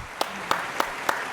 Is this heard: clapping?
yes